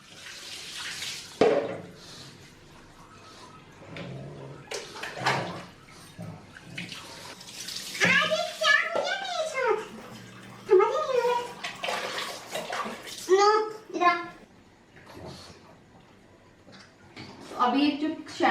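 Water splashes and pours over a dog to soak its coat before a shampoo bath, running steadily in a tub or sink, with people speaking over it throughout.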